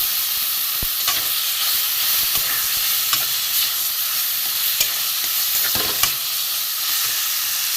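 A vegetarian hyacinth bean kebab mixture fries in a pan, giving a constant loud sizzle with scattered sharp clicks and scrapes from stirring.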